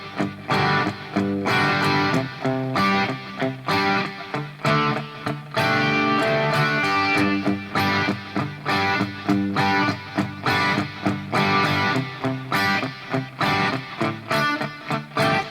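An electric guitar plays a riff slowly with turned-down gain, a steady run of chugging, strummed chords with a mildly driven tone filling the whole stretch.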